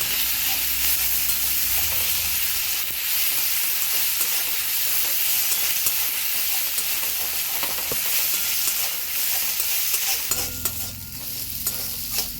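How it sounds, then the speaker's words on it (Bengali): Steady, close sizzling and frying of spices with turmeric in a pan, with occasional stirring scrapes, running continuously with no voices. "এটা আমি ভালো করে কষে নেব।"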